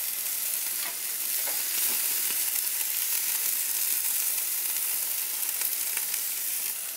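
Meat sizzling and frying in a hot pan, a steady dense crackle that holds close and loud throughout with scattered sharper pops and no talking.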